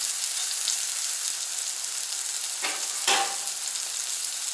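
Butter sizzling on a Camp Chef FTG600 flat top grill, a constant close crackling fry with two brief louder bursts of sizzle a few seconds in, no voices.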